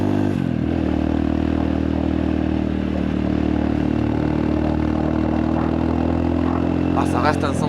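A 160cc four-stroke motorcycle accelerating on a road in Bali, with a steady loud engine drone that holds throughout and rises slightly near the end, while someone talks over it.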